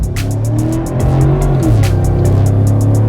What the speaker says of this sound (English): Full throttle. So wheel spin.